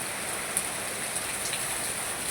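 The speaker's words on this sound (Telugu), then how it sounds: "చూడండి ఫ్రెండ్స్, వర్షం ఎలా పడుతుందో." Steady, dense rainfall hisses on surfaces outdoors with a few sharper drips, continuous and fairly loud throughout, with no one speaking.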